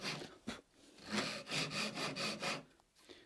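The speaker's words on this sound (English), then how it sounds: "These here saws, it's a razor saw, the Gyokuchi or S206." Wood is hand-sawn with a Gyokuchi S206 Japanese razor saw, producing a run of rhythmic, close, scratchy push-pull strokes of fairly even pace.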